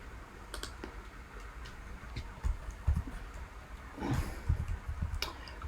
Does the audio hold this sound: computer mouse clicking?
yes